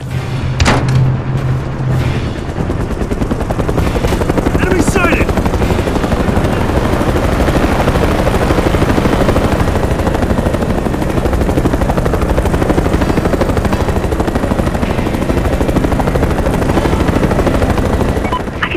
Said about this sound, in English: I'm going for that helicopter.